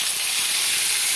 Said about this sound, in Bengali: পেঁয়াজটাকে আমি তেলের মধ্যে দিয়ে ভালোভাবে ভেজে নেব